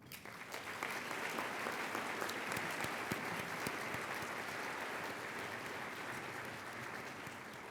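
A luncheon audience applauding the fellows, sustained clapping from many hands in a room, fairly even in strength and easing slightly toward the end.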